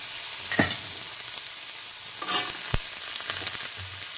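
Chopped carrots for fried rice sizzle steadily in a hot pan, with occasional spatula knocks and stirring scrapes breaking through the constant frying hiss.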